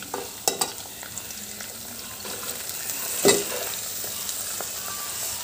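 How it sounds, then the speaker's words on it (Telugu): Minced meat (kheema) frying in a pan with turmeric, a continuous close sizzle with a few sharp utensil clicks and scrapes as it is stirred. "కీమా వేస్తున్నాను. కీమా కొంచెం ఫ్రై కావాలి."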